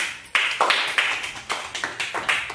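Children clapping together during a classroom letter identification game, a quick run of about ten sharp, close claps in a loose rhythm.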